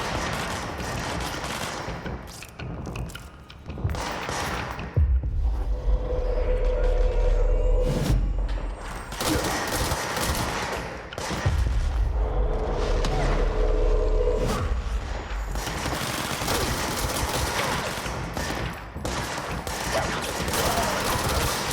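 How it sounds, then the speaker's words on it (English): Enemy gunfire in the video game Control: sustained bursts of shots, loud and dense, with booming low thuds and a few pauses between volleys. "Why did he start shooting at me?"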